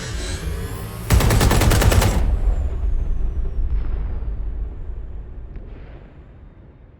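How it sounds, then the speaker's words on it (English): Video game explosions and gunfire: a burst of rapid automatic gunfire cuts in loudly, followed by a deep rumbling boom that slowly fades, with scattered distant pops. "a series of explosions devastated 3 sites in London"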